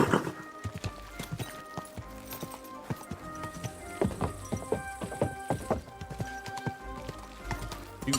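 Horse hooves clip-clop at a slow walk in the video game Kingdom Come: Deliverance II, giving a steady, close rhythm of hoof strikes with a brief whinny over soft ambient game sound.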